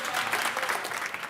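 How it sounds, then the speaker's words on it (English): A brief ripple of applause from MPs in the UK House of Commons during a debate on the conflict in Afghanistan, steady and fairly close, with no other sounds over it. "A ripple of applause revealing the deep upset shared across this House."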